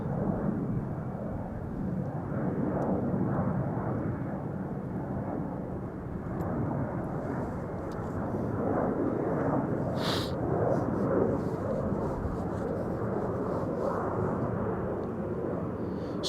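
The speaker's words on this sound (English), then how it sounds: "this is TUI flight 1633 going to Gran Canaria, flown by Go to Sky, and this is a 24-year-old 737-800" A 24-year-old TUI Boeing 737-800 departs Amsterdam Schiphol for Gran Canaria, its engines producing a sustained, rumbling roar that swells and eases slightly while staying loud and close throughout.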